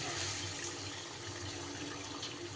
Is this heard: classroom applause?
no